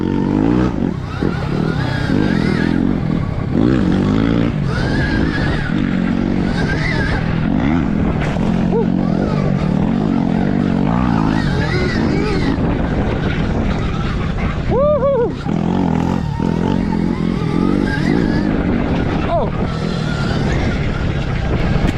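Yamaha YZ 250 and KTM SXF dirt bikes riding, engines revving and whining continuously up and down through gear changes, loud and close, with clattering and occasional voices underneath.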